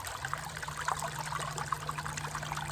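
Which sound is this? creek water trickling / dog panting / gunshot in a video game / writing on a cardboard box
creek water trickling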